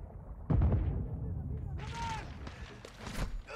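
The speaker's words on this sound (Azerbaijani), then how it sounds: "Oh ne kadar şey partladı." Explosions and battle blasts in Call of Duty: Modern Warfare 2 (2022), a loud boom followed by rumbling bursts and a brief whistling streak, with someone talking over the action.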